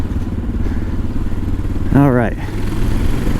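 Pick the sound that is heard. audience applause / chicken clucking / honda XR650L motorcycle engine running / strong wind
honda XR650L motorcycle engine running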